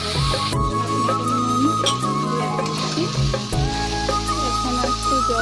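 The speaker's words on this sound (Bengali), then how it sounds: "ডালগুলো ভালো করে বেজে নিয়েছি, এখন সাবু দিয়ে নাড়াচাড়া করে একটুখানি জল দেবো" Sago and fried lentils are stirred together in a hot pan for sabudana khichdi, a close sizzle with intermittent scraping strokes and steady tonal hum in the background.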